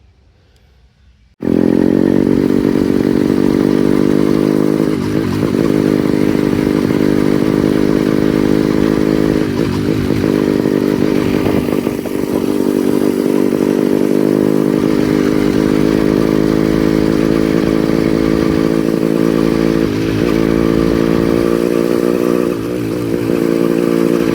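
Small motorized bicycle engine buzzes loud and close throughout a ride, a steady high-revving two-stroke drone with slight rises and dips in speed after a quiet first second.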